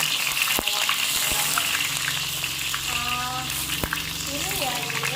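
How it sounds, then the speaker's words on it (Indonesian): Chopped onions sauté in hot oil in a pan, giving a dense, steady sizzle close by with a few sharp clinks from a utensil and someone talking quietly over it. "tumiskan bawangnya ya."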